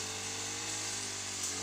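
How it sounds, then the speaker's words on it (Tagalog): A petrol grass cutter runs steadily while trimming overgrown weeds in a small home garden plot, its engine whine holding an even pitch with a continuous drone throughout. "Nagagrass cutter siya."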